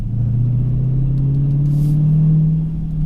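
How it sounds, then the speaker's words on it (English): A deep, steady exhaust rumble from a 2019 Dodge Challenger R/T Scat Pack, swelling slightly as the revs rise, loud and close with no talking. "It causes the sensation where you may hold on to a lower gear longer just to sort of hear the exhaust note."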